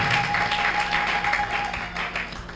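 A church congregation applauds together during worship, a broad steady wash of many hands clapping that holds for the whole stretch with no talk over it.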